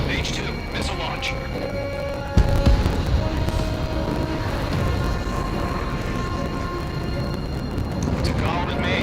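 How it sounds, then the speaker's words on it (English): A missile launch in Ace Combat 7 comes in as a sudden loud whoosh that turns into a sustained roaring rush, mixed with jet engine noise and radio voices talking throughout. "Mage 2, missile launch."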